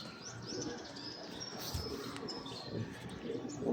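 Pigeons coo and chirp in a loft while the owner waits for three birds yet to return home, soft calls repeating over a steady background hum with faint bird noise throughout.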